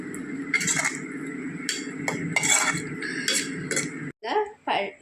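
A spoon scrapes and clinks against a pan while paneer masala is stirred on the stove. The metallic taps come in bursts under a person talking, ending in a few short knocks.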